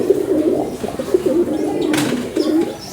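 Madrasi and Andhra pigeons in a loft cooing repeatedly in low, throaty rolling calls, close and fairly loud, with a brief rustle midway and no talking.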